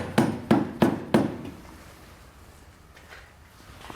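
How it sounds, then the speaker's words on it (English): A rubber mallet strikes four times in quick, evenly spaced taps, driving a Curt trailer hitch receiver into place on a 2018 Ford Escape, followed by quiet handling noise. "we're just gonna grab our rubber mallet here to give us some assistance with this."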